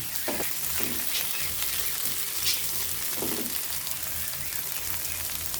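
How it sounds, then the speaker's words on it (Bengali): Tomato, onion and dried chili frying in mustard oil, a dense, continuous crackling sizzle with occasional low stirring bumps, close and steady throughout. "এভাবে টমেটো পেঁয়াজ শুকনো মরিচ ও সরিষার তেল একসঙ্গে কিছু সময় কুক করে নেবেন এটা ভালো ব্রাউন কালার আসা পর্যন্ত"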